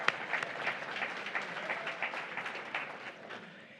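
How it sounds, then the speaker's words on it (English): Keynote lunch audience applauds in a room, a dense, fairly quiet wash of many hands clapping that holds steady and slowly tapers off. "let's give them a round of applause"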